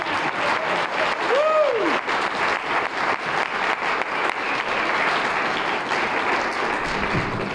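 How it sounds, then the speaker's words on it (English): Steady audience applause fills the room at a Chamber of Commerce awards gala, continuous dense clapping at moderate level with a brief whistle-like tone near the start. "If you could give her a round of applause,"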